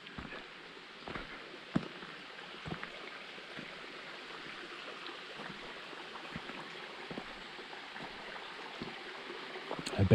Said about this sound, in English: But there's a little brook up here.